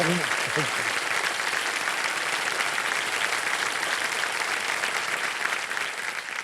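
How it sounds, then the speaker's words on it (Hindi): On a TV quiz show set, a studio audience gives a loud, sustained round of applause that continues evenly throughout, with a brief voice heard at the start. "जोरदार तालियां बज जाए जावेद साहब की."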